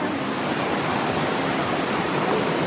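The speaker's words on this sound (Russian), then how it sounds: "А вон какая река." A cold, deep river rushes steadily, a dense even roar of flowing water heard close and continuous, with no voices over it.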